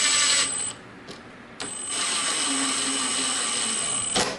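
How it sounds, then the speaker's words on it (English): Power drill driving a screw into a walnut side table leg during assembly: a short burst, a pause, then a longer steady whirring drive that stops abruptly, close and clear with no talking. "I'm going to put this screw in."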